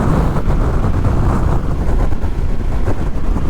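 Steady, loud wind buffeting around a helmet on a Honda NC750XA motorcycle cruising in sixth gear at about 73 mph under 4,000 revs; a continuous broadband rush with no talk.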